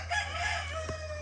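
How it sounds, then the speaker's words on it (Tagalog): Pet chickens kept at home, with a rooster crowing in a drawn-out call and faint clucking over a steady low hum, heard at moderate distance. "May mga manok po kasi kakong alaga."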